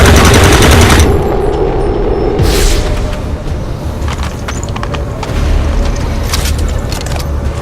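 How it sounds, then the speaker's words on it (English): Enemy gunfire in XCOM 2 rattles out loud and close in a dense burst, then falls back to scattered shots and booms over a rumbling backdrop. "Oh no, he's firing."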